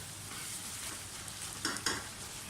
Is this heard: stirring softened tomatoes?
yes